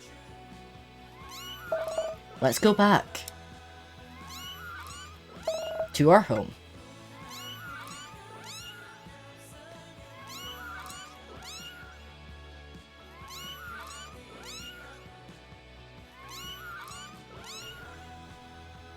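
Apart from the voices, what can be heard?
kittens meowing in the video game What Comes After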